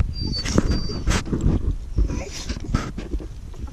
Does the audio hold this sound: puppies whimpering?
yes